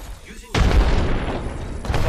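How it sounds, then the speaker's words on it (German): Explosion in the video game Apex Legends, a sudden loud boom that bursts in and rumbles on for over a second before a second smaller hit. "ich wurde weggebankt von der Explosion"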